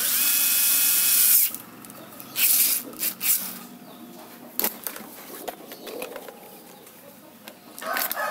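A power tool drives bolts into electric fan parts during a motor coil rewind repair, a loud high whine opening the clip, then short bursts of drilling and tapping with quieter handling sounds between.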